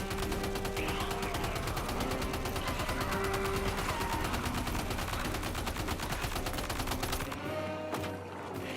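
Dense, continuous gunfire from the Death Stranding 2 video game, a rapid unbroken volley of shots lasting about seven seconds before cutting off abruptly, loud and close with no talking.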